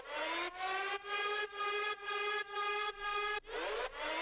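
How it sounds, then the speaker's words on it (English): A synthetic siren tone wailing in short repeated rises, about eight even cycles, loud and close, with no other sounds. "at the end, we got, I think, a little siren."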